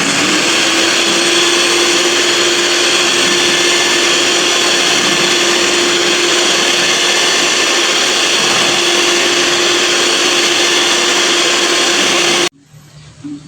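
An electric mixer whirs steadily through a guyabano ice cream base, a loud, constant motor drone with a whining tone that cuts off abruptly near the end.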